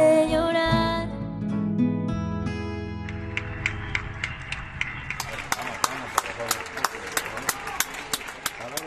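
People applaud from their windows at 8 pm: after some music fades, sharp rhythmic hand claps ring out steadily and fairly close, with voices underneath.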